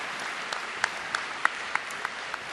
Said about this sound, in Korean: 다시 한번 뜨거운 박수로 선수 대표를 대표한 선수들의 선서를